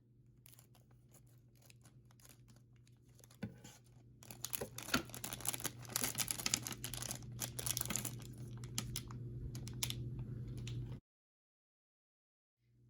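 Scissors snip into a plastic LEGO Harry Potter minifigure bag, then the thin plastic crinkles and tears continuously for several seconds as it is pulled open and the contents handled, close up, before the noise stops abruptly.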